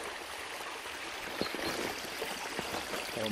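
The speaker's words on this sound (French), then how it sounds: "Le ruisseau qui est à peu près propre ici" A small stream near Coucouron flows with a soft, faint continuous trickle and occasional gurgles and splashes, quiet and fairly close.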